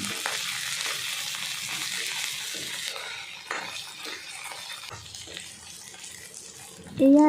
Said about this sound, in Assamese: ইয়াতে মই আদা আৰু নহৰুখিনি ভালদৰে ভাজি ল'ম